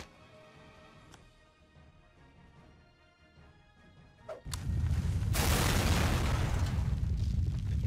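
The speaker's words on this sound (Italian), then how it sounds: "Esplosione a caso." A random explosion goes off in Super Meat Boy, a sudden loud broadband boom after a quieter stretch of game sounds, with the blast roaring on for several seconds.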